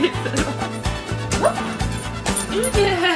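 A golden retriever barks and yips in quick, close bursts with whimpering tones in between, fairly loud and alone.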